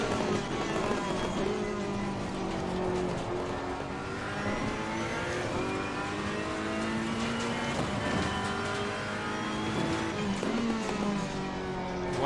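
A race car engine in Assetto Corsa Competizione drones steadily, its pitch climbing and falling through gear changes while cornering, loud and continuous across the whole stretch with no talk.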